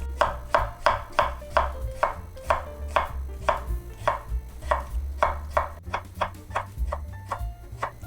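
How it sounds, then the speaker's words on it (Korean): Rapid, steady knife chops slicing potatoes thinly on a cutting board, a dozen or more crisp strikes in an even rhythm, close up with no talking. "감자는 이렇게 얇게 편으로 썰어 주세요."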